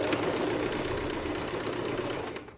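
A sewing machine runs steadily as it stitches a seam in fabric, a close, continuous whirring hum that keeps a fast even rhythm from start to finish and stops abruptly at the very end.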